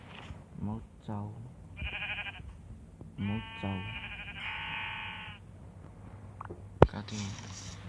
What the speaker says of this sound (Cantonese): 有羊喎，